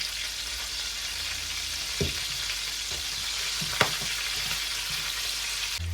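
Pork ribs fry in a pan with a steady, loud sizzle throughout, broken by a few soft knocks and scrapes of stirring.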